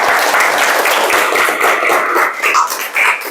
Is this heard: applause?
yes